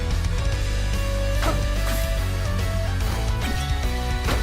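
Upbeat electronic soundtrack from the rhythm dungeon game Crypt of the NecroDancer, a steady driving beat with a bright melody and dense bass, loud and continuous with no talking.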